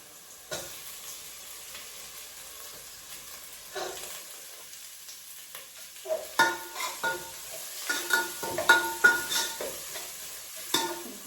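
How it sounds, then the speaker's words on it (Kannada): Grated coconut frying in a pan for bottle gourd sambar, a quiet sizzle under intermittent scraping stirs of a spatula that grow louder and more frequent in the second half. "ಸ್ವಲ್ಪ ಫ್ರೈ ಆಯಿತು, ಗೋಲ್ಡನ್ ಕಲರ್ ಬಂದಿದೆ. ಕಾಯಿ ಹಾಕೊಳ್ಳೋಣ."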